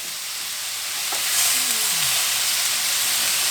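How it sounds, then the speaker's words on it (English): Onions fry on a hot Blackstone griddle, a dense, even sizzle that swells slightly and then holds steady and loud from start to finish. "We're going to cook that until the onions start getting that nice"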